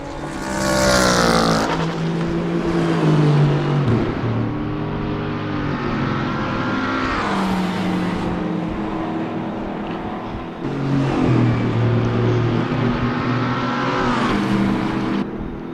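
GT3 race cars lapping the Nürburgring GP circuit in a racing game, engines roaring loud and close with repeated upshifts and rising revs, a car sweeping past near the start.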